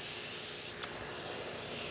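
Steam hisses steadily from the steam valve of a Rancilio Silvia espresso machine under pressure, a continuous bright spray-like rush with one brief spike midway.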